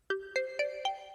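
UbuntuDDE 21.04 volume change system sound: four bright, rising chime tones in an even, quick sequence, each ringing briefly into the next, clear and alone.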